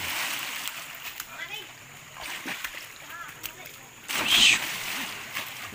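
A person jumps into a river and hits the water with a single sharp splash, the burst standing out over flowing water and nearby excited voices.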